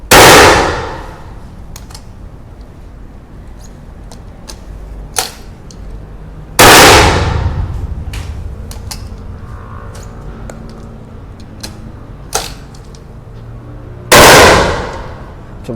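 Three loud, sharp shotgun blasts from a Huglu 301B single-barrel break-action shotgun, spaced several seconds apart, each ringing out and decaying into a noisy outdoor background with faint clicks between shots.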